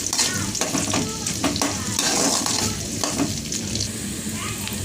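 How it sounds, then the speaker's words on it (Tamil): Chopped onions sautéing in hot oil with popped mustard seeds, a loud continuous sizzle broken by repeated scraping and stirring strokes in the pan, close up with no talking. "வெங்காயம் நல்லா வதங்கணும்."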